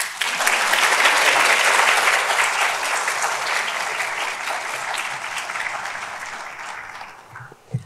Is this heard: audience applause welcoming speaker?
yes